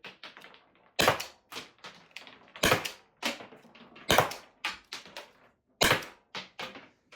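Byrna LE less-lethal launcher firing rounds outdoors: a series of sharp, close pops at irregular intervals, about a dozen in all, several louder shots mixed with lighter snaps, with no talking.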